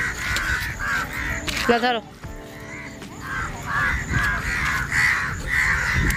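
A flock of crows caws repeatedly outdoors near a temple, the harsh calls rising and falling throughout while a person talks over them.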